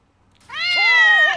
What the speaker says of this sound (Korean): 고양이 한 마리가 나와요.